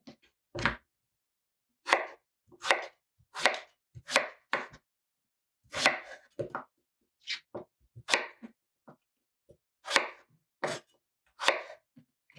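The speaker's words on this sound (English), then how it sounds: "Cut these up in cubes," Knife chopping pumpkin into cubes on a board, a series of about fifteen sharp, distinct thunks in an uneven rhythm with clear quiet gaps between them, close and isolated.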